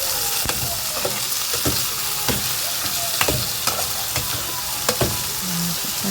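Tomatoes cook in a pot with a continuous sizzle while a utensil stirs them, giving a series of regular scraping clacks about every half second, close and fairly loud.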